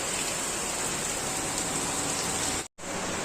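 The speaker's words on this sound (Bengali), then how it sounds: "প্রচুর বৃষ্টি হচ্ছে" Heavy rain pours down in a dense, loud, continuous roar of drops striking surfaces nearby, broken only by a brief dropout near the end.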